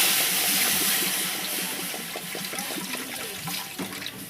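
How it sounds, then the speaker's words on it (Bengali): Water poured into a kadai (wok) in a home kitchen before boiling fish gushes and splashes steadily, loud at first and then easing slightly as the pour continues, with no talk. "আমি কড়াই একটু জল দিয়ে নেব।"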